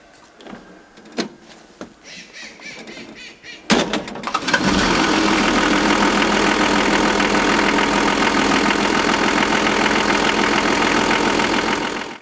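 An old 1984 vehicle with 1.36 million kilometres on it starts up after a few quiet knocks, then its engine settles into a steady, loud, close idle that runs unbroken for several seconds.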